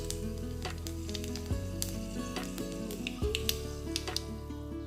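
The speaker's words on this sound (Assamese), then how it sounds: "তেলখিনি গৰম হ'লে ইয়াতে মই অকণমান পাঁচফোৰণ দি দিম।" Panch phoron spices sizzling in hot oil, a steady crackling fry throughout with a faint tonal hum beneath.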